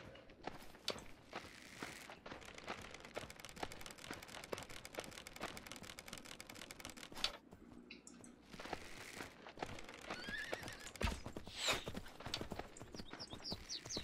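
Horse hooves clip-clop steadily and quickly on hard ground throughout, with a brief pause midway; no voices. From the video game Myth of Empires.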